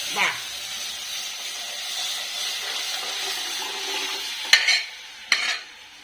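Steady hissing sizzle of hot oil tempering poured into cooked dal, with a couple of sharp clinks near the end.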